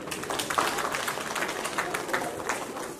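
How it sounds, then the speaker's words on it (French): An audience claps for itself at a dowry ceremony, a continuous close burst of many hands with light crowd murmur mixed in, steady for about three seconds. "Applaudissez pour vous-même."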